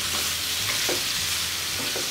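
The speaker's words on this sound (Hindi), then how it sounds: "टोमेटो सॉफ्ट होने तक अच्छी तरह से कुक कर लूंगी।" Tomatoes with a little salt softening in a pan over a low flame, giving a steady close sizzle with soft scraping stirs scattered through the short stretch; no one speaks.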